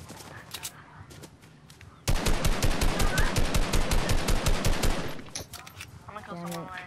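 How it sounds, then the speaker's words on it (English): Rapid bursts of automatic gunfire in the Fortnite Reload video game, a dense stream of shots firing for about three seconds after quieter scattered shots, with game sounds around. "Kids over here shooting."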